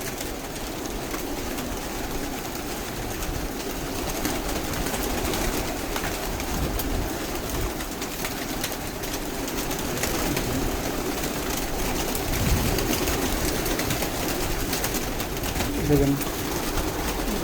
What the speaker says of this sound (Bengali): 3 থেকে 4 হাজার কবুতর আনা আছে